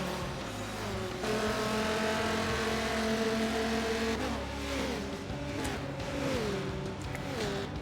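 Race cars at speed on the Yas Marina circuit in Forza Motorsport 7, engines droning steadily with rising and falling pitch as cars shift and pass, a dense, continuous roar throughout.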